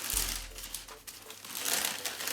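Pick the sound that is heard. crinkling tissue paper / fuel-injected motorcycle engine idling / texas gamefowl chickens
crinkling tissue paper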